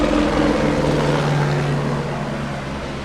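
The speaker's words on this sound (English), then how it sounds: "There's a helicopter like 100 feet above my house." A steady low mechanical drone of a helicopter hovers close overhead, a constant rumble with a droning hum throughout.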